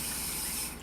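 Cold tap water pours steadily into a bowl for a tapioca coconut jello recipe, a close, even hiss and splash with no talk.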